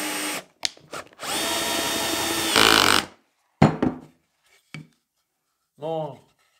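A power drill whirs in short bursts with one longer steady run, each burst ending sharply, followed by a few brief grinding stabs. A short voice sounds near the end.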